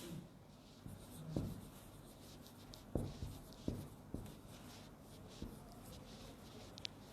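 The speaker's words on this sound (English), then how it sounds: "I am writing them." Pen or chalk writing by hand during a classroom grammar lesson, heard as faint scratchy strokes with a few louder taps and scrapes against a quiet room hum, no talking.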